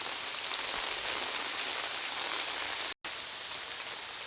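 Heavy early-morning rain pouring down in a continuous, dense hiss of drops striking surfaces, loud and steady, broken only by a brief dropout near the end.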